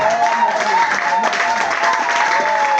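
A church congregation applauds and cheers for Jesus, with loud, sustained clapping and raised voices filling the hall without a break.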